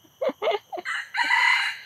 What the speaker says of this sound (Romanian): Și avem și cocoși acolo.